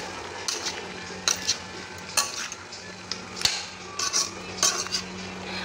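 A spoon scrapes and clatters against a pot as chicken, papaya and potatoes are stirred together, several separate metallic knocks over a low steady sizzle, with no talking.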